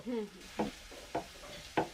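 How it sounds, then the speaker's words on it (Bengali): Rolled roti toasts on a hot pan with a faint sizzle, broken by three soft, evenly spaced scraping presses close by. "আমি এখানটাতে রুটিগুলো একটু সেকে নিই"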